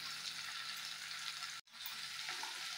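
Sliced ivy gourd sautés in a pan with a faint, steady sizzling hiss that cuts out briefly midway, then resumes.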